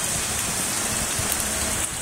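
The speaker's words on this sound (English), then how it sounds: "The rain has started. The rain is starting to pick up." Heavy rain from Hurricane Sandy pours steadily outdoors in Baldwin, Long Island, New York, a dense, continuous hiss of drops pounding surfaces with no voices.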